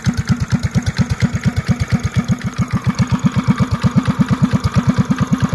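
A small single-cylinder engine on a Fantic Motors mini bike putters steadily at idle after starting, loud and close, with an even, rapid pulsing beat and no talk.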